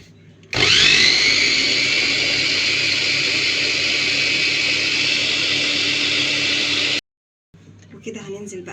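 An electric mixer whirs loudly and steadily through red-tinted cupcake batter, starting abruptly, running for about six seconds, then cutting off to brief quiet and faint movement.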